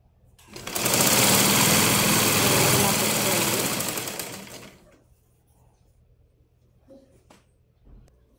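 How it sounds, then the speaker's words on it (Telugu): A sewing machine stitches piping onto a blouse, its motor whirring loudly and steadily for about four seconds before stopping, followed by faint handling clicks. "దీన్నే పైపింగ్ లాగా అయితే కుడుతున్నాను నేను."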